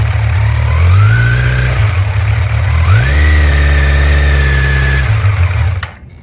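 A motorcycle engine runs steadily while the rider holds the front brake and eases out the clutch for a launch, with two rising revs that climb and hold before the loud engine note cuts off near the end.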